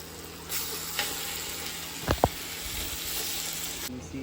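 Marinated chicken hitting a pan of browned onions and frying, a steady hiss with a couple of sharp spattering crackles in the middle, no talking.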